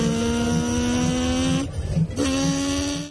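A young man from Ilocos Norte mimics a motor engine with his voice: a steady, buzzing, harmonic drone that cuts out briefly near the middle and then resumes at the same pitch, loud and close, with no other talk.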